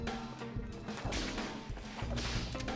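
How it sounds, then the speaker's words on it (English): Sharp whip cracks and thwacks land amid crashing and smashing impacts, loud and close, with whooshing swishes in between. "She celebrates by immediately whipping the heads off a couple of mannequins."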